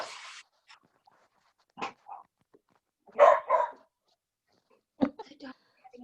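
A dog barks and whimpers in short, separate bursts at close range, with pauses of near silence between them.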